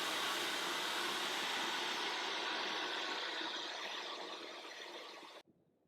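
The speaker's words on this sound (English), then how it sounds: "I'm gonna try with a hair dryer and brush" A hair dryer blowing on hair during brushing after cutting bangs, a steady close broadband whoosh that slowly softens before cutting off abruptly, leaving faint room tone.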